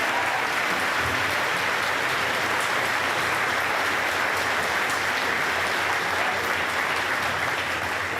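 At an eighth-grade school graduation ceremony, a crowd gives the speakers a long round of applause, a dense and constant wash of many hands clapping at steady volume throughout.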